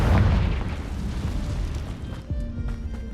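A Confringo blasting spell detonates in the Hogwarts Legacy video game, a single loud booming explosion up close that rumbles and then decays into a lingering low tail.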